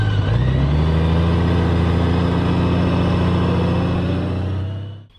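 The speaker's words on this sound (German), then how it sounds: "In diesem Fall wird der Motor beim Betätigen des Bremshebels gestartet." A Honda Gold Wing SC79 motorcycle engine runs at a steady, close idle with its start-stop system, then cuts out abruptly near the end, leaving silence.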